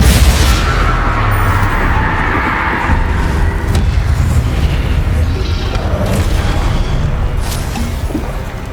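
Confringo spell explosions in Hogwarts Legacy, a dense run of booming blasts and impacts rolling continuously under game noise, loud and close throughout.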